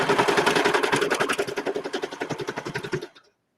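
A sewing machine runs a fast, even stitching rhythm as it sews a waistband. The loud pulsing runs close for about three seconds, then stops abruptly into silence.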